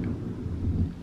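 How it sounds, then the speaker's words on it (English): Low thunder rumbles outside, deep, continuous and steady throughout, with a faint wash of rain-like noise above it. "Did you just hear that thunder?"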